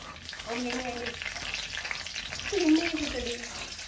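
Cumin seeds, fenugreek and dried fish sizzle and crackle steadily in hot oil in a home kitchen pan, with a voice speaking briefly over the frying.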